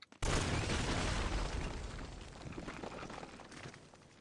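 A loud in-game gunshot or blast from Uncharted: Drake's Fortune hits at once after a short pause, then a long rumbling decay with scattered crackle trailing off over several seconds; no talking.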